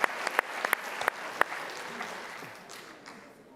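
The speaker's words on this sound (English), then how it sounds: "Give the 7th grade a round of applause." A school academic bowl audience applauds the 7th grade team, a scattered round of clapping with a few loud, distinct claps up front that thins and fades away within a few seconds.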